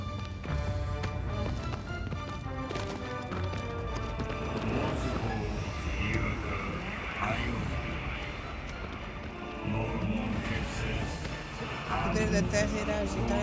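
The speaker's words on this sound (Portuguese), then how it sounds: "Tenho que usar o meu cavalinho." Horse hooves galloping in Shadow of the Colossus, a steady clip-clop rhythm running throughout under continuous game music and a talking voice.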